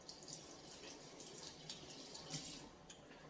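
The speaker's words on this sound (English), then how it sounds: "Let me rinse this spoon." Tap water runs steadily and faintly over a spoon being rinsed at a kitchen sink while Thai vegetable soup is made. A soft continuous splash carries a few small clinks.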